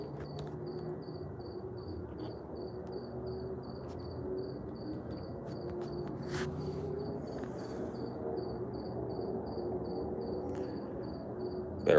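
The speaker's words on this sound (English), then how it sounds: "Better watch out, cricket." Crickets chirp outdoors at night, a faint pulsing high trill repeating steadily over a low ambient background for the whole stretch.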